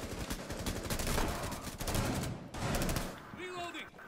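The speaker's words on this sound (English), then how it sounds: "Stop shooting me!" Dense, rapid automatic gunfire during a Terrorist Hunt match in a shooter video game. Loud sustained bursts break off briefly, then resume, ending in quieter in-game sounds.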